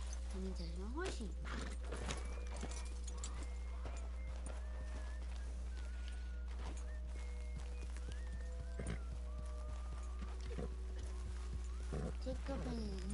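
A horse in Red Dead Redemption 2 walks with soft, steady hoof clip-clops and a few snorts over a constant low rumble, while a person talks quietly throughout.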